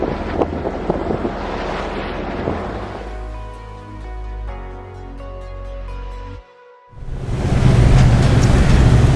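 Sailboat at sea in a south-southwest wind of about 12 knots, strong wind buffeting with water rush, a calmer passage with a steady engine-like hum, a brief dropout, then loud wind and waves again.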